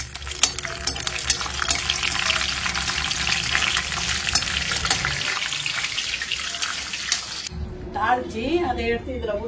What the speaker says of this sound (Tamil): அதில் பட்டையும் அந்த பிரிஞ்சி இலையும் தான் போட்டு தாளிக்கிறேன்